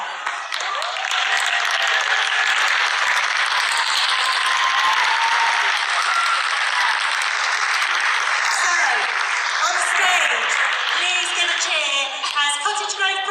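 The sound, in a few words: audience clapping and cheering as the curtains open for choirs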